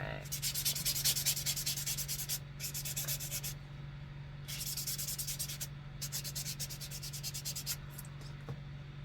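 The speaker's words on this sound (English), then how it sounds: "now that my nails are all filed" Nail file rasping across fingernails to shape them, in close, soft rhythmic strokes grouped into bursts with short quiet gaps between, faint and alone over a low steady hum.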